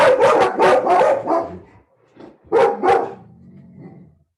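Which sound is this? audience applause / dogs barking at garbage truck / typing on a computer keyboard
dogs barking at garbage truck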